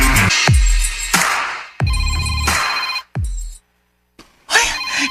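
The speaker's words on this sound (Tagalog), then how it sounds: "Ibagting sa pang telepono." A telephone rings in repeated bursts, loud and close, with short gaps between rings and a brief silence near the end.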